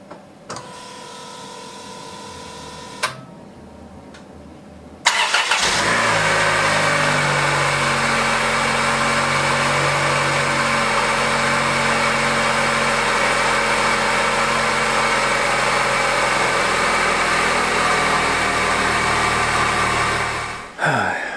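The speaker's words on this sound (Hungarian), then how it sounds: "nézzük meg, hogy hogy indul. Előrejelzem, hangos lesz, mert egy kicsit a kipufogó hiányos" A Chrysler Sebring engine cranks and roars to life at about five seconds, then runs loud and rough with a raspy, leaky exhaust drone from an incomplete exhaust until cutting off near the end.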